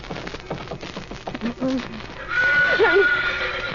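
A horse whinnies in an old-time 1948 radio drama, a rising and falling neigh over rain-like background noise, following a stretch of dramatic speech.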